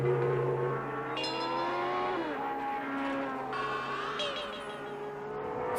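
Formula 1 race cars from the 1973 Grand Prix season, Lotus and Tyrrell among them, scream past with rising and falling engine pitches. Several overlapping high revving engines sweep by, loud and continuous.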